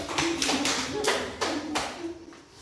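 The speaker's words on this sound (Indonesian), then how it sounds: "tepuk tangan untuk kelompok 2" Classroom of children applauding a discussion group: a short burst of several rhythmic hand claps in quick pulses, close and fairly loud, with a voice faintly audible beneath.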